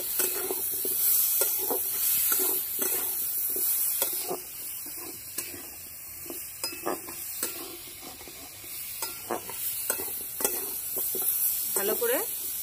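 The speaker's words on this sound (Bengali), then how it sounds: "ভালো করে নেড়ে চেড়ে নিয়েছি" Hog plum chutney stirred in a pan over low heat, a soft continuous sizzle broken by repeated scraping strokes of a spoon at an uneven rhythm, close and fairly clear, no talk.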